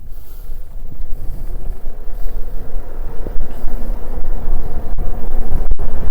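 Fiido M1 Pro Fat 500W electric bike pulling away on throttle alone, pedals untouched, giving a steady low rumble with heavy wind noise buffeting the microphone throughout.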